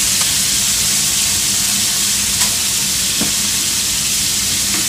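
Shrimp seasoned with salt and pepper fry in a pan with a loud, continuous sizzle and hiss, punctuated by a few faint pops and no talking.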